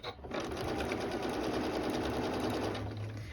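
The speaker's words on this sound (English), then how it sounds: "move your machine down to a speed that you can sew steady" A sewing machine runs steadily at an even speed while stitching quilt binding, a close, continuous motor whir with rapid needle clatter throughout, no talk.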